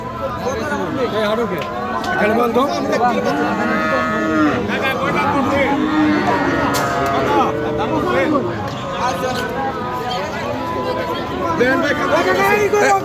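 Cattle lowing repeatedly amid a noisy crowd of people talking and shouting at a livestock market, where a cow breaks loose, a busy, continuous bustle close by.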